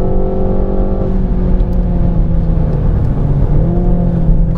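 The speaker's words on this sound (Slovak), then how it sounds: "Prdí to pekne do výfuku." A Renault Mégane RS accelerates on a race circuit, its engine droning loud and steady through rising and shifting pitch, with the exhaust burbling and popping close by.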